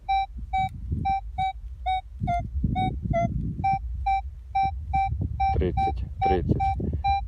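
A metal detector sweeping over a buried copper coin in an autumn field gives a clear repeated tonal beep, about a dozen regular pulses close up over low rustling and thumping.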